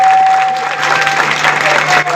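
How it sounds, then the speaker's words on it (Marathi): A village crowd at a Maratha community protest gathering claps loudly together in a dense, sustained burst of applause, with a faint electronic hum from a sound system running underneath. "त्यांच्यासाठी जोरात सर्वांनी एकदा टाळ्या"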